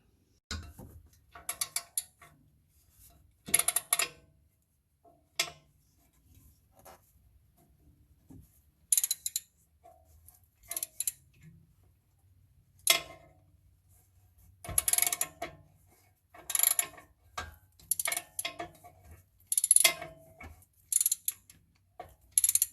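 Ratchet wrench clicking in short bursts while long tube headers go onto a 2018 Mustang 5.0, the quick ratcheting runs separated by quiet pauses, close up with no talk.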